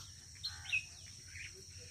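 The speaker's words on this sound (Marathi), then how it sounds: "छान अशी पक्ष्यांची किलबिलाट" Soft, scattered bird chirps and tweets drift across a foggy morning farm field, a few brief calls standing out over a steady low rumble of background noise.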